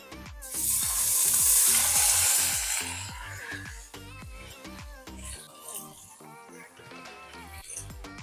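Apple-glazed pork pieces sear in a hot pan, a loud steady sizzle and frying hiss that swells early then settles lower, with a continuous background hum underneath.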